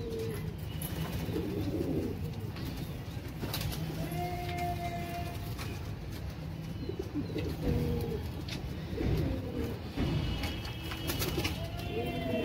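Racer pigeons coo softly in repeated low, throaty calls amid faint background rustling and other sounds, fairly quiet throughout.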